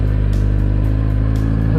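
A Suzuki GSX-R600 motorcycle engine runs loud and close with a steady, throbbing low rumble, with brief rising pulses as it is revved.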